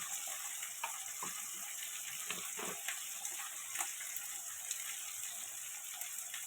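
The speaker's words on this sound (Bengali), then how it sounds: "এটা ভালো করে কষিয়ে নেব" Ginger paste, turmeric, chili and cumin powder being sautéed in a pan for a fish curry with potato and pointed gourd, a close steady sizzle with repeated scraping, clicking stirring strokes, no talking.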